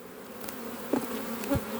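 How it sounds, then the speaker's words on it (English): Honeybees buzz steadily on a frame pulled from a hive during a colony split, a close, continuous drone with a couple of brief louder bumps partway through. "The bees on it there"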